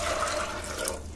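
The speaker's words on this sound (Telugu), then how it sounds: "ఇందులో ఇప్పుడు సరిపడా వాటర్ పోసుకోవాలి." Water pours steadily into a pressure cooker holding a cup of chickpeas soaked overnight, a continuous close splashing rush with no breaks and no talking.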